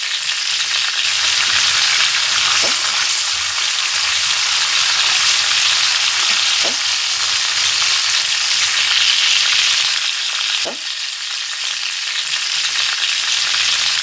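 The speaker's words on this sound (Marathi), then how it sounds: "जिरं छान फुलायला लागलं की मग त्याच्यामध्ये लसूण टाकायचा" Cumin seeds and garlic fry in hot oil in a pan, giving a loud, steady, close crackling sizzle that runs throughout with a few faint utensil taps, no voices.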